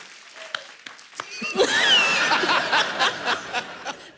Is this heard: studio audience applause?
yes